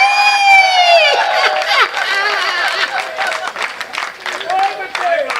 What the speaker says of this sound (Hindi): तालियां आप गलत जगह ही बजाते हैं।